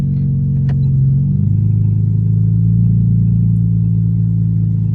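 Tuned Infiniti Q50 engine idling roughly and unevenly, a loud steady low rumble that shifts pitch slightly early on, with no talk over it.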